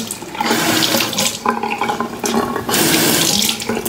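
A bathroom tap runs steadily into a sink during face washing, a loud, close, continuous splashing rush with small shifts in the flow and no voices.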